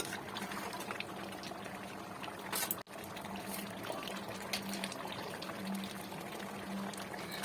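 A pot of spicy sea crab masala curry bubbles steadily on the stove, a soft continuous simmer with a brief sharp knock partway through and no one talking over it.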